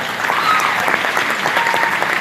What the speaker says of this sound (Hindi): अरे इनके लिए ताली होनी चाहिए यार